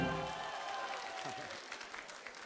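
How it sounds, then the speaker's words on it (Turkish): Audience applause at a university entertainment show, a dense wash of clapping that stays steady and fairly loud across the clip, with scattered voices mixed in. "Onların yerini alkışlıyorlar bak."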